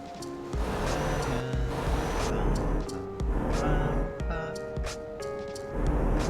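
A bus engine in a truck simulator video game hums steadily beneath soft background music, with a low, even drone and a few brief clicks and chimes on top.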